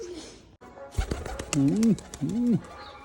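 A pigeon coos twice in low, rolling, wavering tones, close by, after a short rustle and some clicks.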